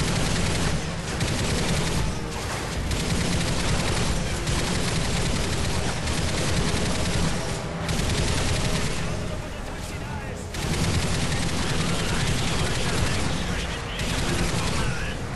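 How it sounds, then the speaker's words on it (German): Heavy gunfire rattles through a Call of Duty Modern Warfare 3 battle, loud continuous bursts and volleys layered with explosions, with no letup across the whole stretch. "Das sind Schüsse."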